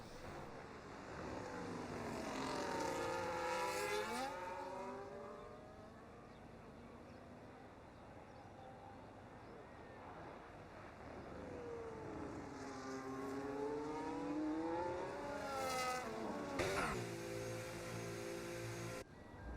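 Engine of a race car on an outlap at a wet Mexico GP in a racing game, rising and falling in long revving sweeps as it shifts through gears, passing twice at moderate distance, with no talking.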